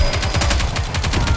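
Rapid automatic gunfire in the Goddess of Victory: Nikke shooter game, a loud continuous stream of fast evenly spaced shots with no pauses.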